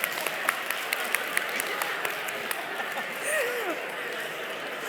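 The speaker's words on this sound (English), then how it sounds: "now make an applause" Scattered, faint clapping in a large convocation hall as audience members try to applaud together using one hand each, sparse uneven claps over a murmur of crowd voices, with a brief whistle-like tone near the end.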